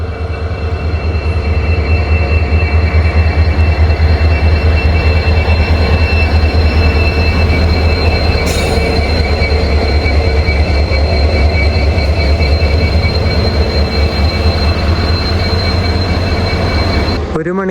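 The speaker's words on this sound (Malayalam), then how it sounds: "ഈ ഒരു BRNA ഫ്ലൈറ്റായിട്ട് വന്ന ലോക്കോ ഇത് ഫ്രണ്ടിൽ നിന്ന് ഡിറ്റാച്ച് ചെയ്തിട്ട് റിവേഴ്സ്" A locomotive that arrived on a BRNA freight rake has been detached from the front of the train and reverses away, a loud, continuous rumble of wheels and engine with rhythmic rail clatter close by.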